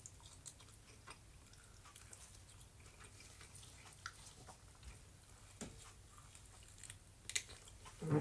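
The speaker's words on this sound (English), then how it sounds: "Let's chew on this bone." Bella the dog chews a bone nearby, with soft wet gnawing and squishing sounds that continue steadily at low volume, ending in a few louder crunches.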